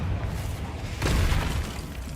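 A Confringo fire spell from Hogwarts Legacy erupts into a loud, close boom with a burst of crackling debris, lasting about a second, over steady game background rumble.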